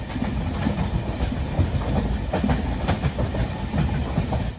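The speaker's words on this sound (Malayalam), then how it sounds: "മഡ്ഗാവ് ടു കാർവാർ 80 ആ ഒരു റേഞ്ചിൽ തന്നെയാണ് വണ്ടി പോകുന്നത്." Panchaganga Express rolls along at around 80 km/h, giving a loud, steady rumble with rhythmic clickety-clack from the wheels over rail joints, heard from inside the coach with no voices.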